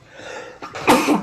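A single sneeze bursts out close by, a brief inhaled buildup followed by a sharp, loud, explosive release, heard alone.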